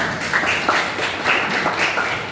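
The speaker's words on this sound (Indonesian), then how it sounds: "tepuk tangan buat Azriel" Brief scattered classroom clapping for a student after a history presentation, moderately loud with a few distinct claps standing out and no speech.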